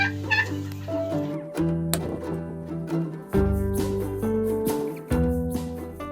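Turkeys on a farm cluck and call in close, irregular bursts, several birds overlapping with sharp tonal notes and short gaps, no talking.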